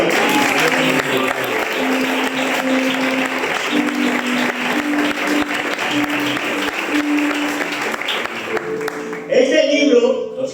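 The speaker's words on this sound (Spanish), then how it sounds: "Dale un aplauso al Señor" A church congregation applauds steadily in praise during a Christian sermon, sustained clapping with sung or held voices and organ-like tones underneath, swelling louder near the end.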